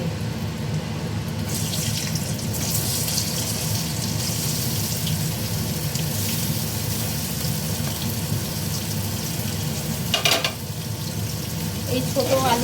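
Small boiled potatoes frying in hot oil seasoned with whole garam masala, bay leaf and cumin, giving a steady close sizzle with light stirring and scraping throughout, plus a brief clatter near the end.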